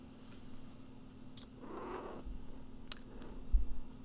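A pet cat, a sister's kitty, purrs softly and close in a quiet room, a low continuous rumble with a couple of faint brief clicks.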